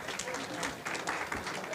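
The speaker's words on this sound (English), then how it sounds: "give a round of applause to the lady" Brief burst of audience applause at a live charity auction in Perth, dense clapping from a crowd, fairly faint and short.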